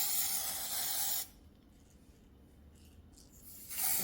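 Two bursts of hissing spray as tint is applied to wig lace over a stocking cap, one long blast, a quiet gap, then a second spray starting near the end, close by.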